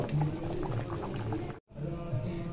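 Fish curry of katla being poured out of a pan, a dense liquid gurgle and splash heard close up. It runs steadily, breaks off for a moment, then resumes.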